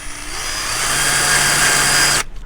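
A power drill with a small bit whines steadily at close range for about two seconds, drilling a hole during a brake upgrade on a 1990 Jeep Cherokee, then cuts off abruptly.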